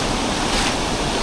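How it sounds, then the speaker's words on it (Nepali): Water pours down from a dam, a loud, continuous roaring rush that stays constant and close, with no talk over it. "त्यो ड्यामबाट पानी बगेको छ नि यो ड्याम"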